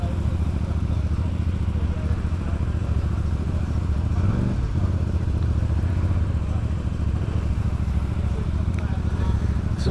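A CFMoto motorcycle on a demo-day ride gives a steady, loud engine drone mixed with constant wind rush. It holds an unbroken level throughout, and a brief bump in the noise comes midway.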